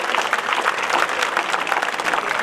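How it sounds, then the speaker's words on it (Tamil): A large outdoor crowd at a rally on Marina Beach claps loudly and continuously, a dense, even wash of applause with no pauses. "பெரிய கைத்தட்டி."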